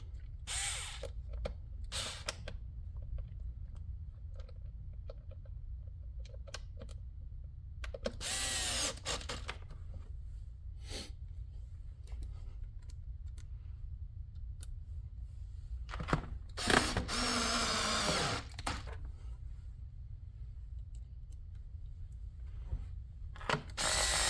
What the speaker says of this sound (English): go ahead and stick in some placeholder screws just to keep everything tight